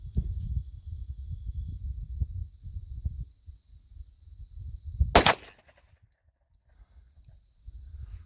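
A single sharp report from a Tisas 10mm Yukon pistol at an outdoor range cuts through low rumbling background noise, followed by a brief decay and quiet.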